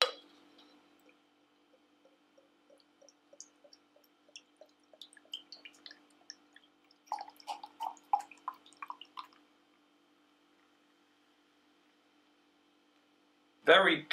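Oakham Inferno blonde ale is poured into a glass, a faint trickle and dripping of beer with light glassy clinks, building into a busier splashing stretch before going quiet, then a short loud burst at the end.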